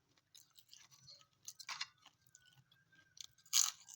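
Close, quiet bites into a crunchy crepe wrapper holding a green chilli filling, giving crisp crackling crunches followed by softer chewing, with no voices.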